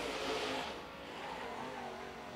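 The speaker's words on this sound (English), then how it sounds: "Here comes Dalton Hodge down to the line." A late model race car engine roars at Carolina Speedway during Blue Ridge Outlaw qualifying, heard as a continuous buzzing drone that is loudest at the start and settles slightly as the car runs past at moderate distance.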